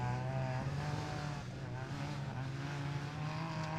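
UTV race cars at a desert off-road race start rev and accelerate off the line, a steady droning engine roar with strong low harmonics, moderately distant and sustained throughout.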